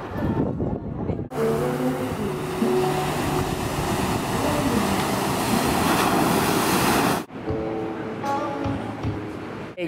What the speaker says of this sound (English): It's just really nice listening to the waves right now.